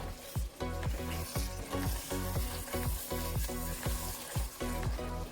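Onions sizzling in a pot for French onion soup while a spoon scrapes the browned bits off the bottom, steady frying hiss under a run of repeated, rhythmic scraping strokes, close and fairly loud with no talk.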